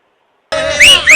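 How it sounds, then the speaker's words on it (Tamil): Audience whistling at a televised Tamil political debate: a steady shrill tone, then two loud rising whistles close together, with no talking. "அங்க என்ன எம்ஜிஆர் படமா ஓடிக்கிட்டு இருக்கு, விசில் அடிச்சு கழுத்துறீங்க"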